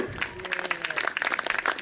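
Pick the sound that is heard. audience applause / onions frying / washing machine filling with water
audience applause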